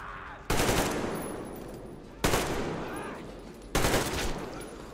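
Gunfire in the video game Metro Exodus Enhanced Edition: three loud, evenly spaced single shots, each followed by a long, echoing decay.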